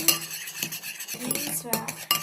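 Homemade slime made with shampoo is stirred in a bowl, giving soft irregular clinks and scrapes of a utensil against the bowl with wet squelchy movement, close and continuous.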